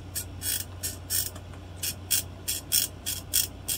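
A Swift mini cycle machine runs with a loud rhythmic mechanical clatter, a series of regular ratcheting clicks in close succession with no voices.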